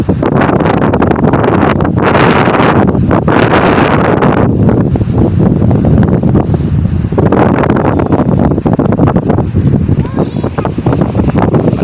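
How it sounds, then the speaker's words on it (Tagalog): Strong seaside wind buffets the microphone in loud, gusty bursts throughout, with a rushing roar that swells and drops. "malakas yung hangin"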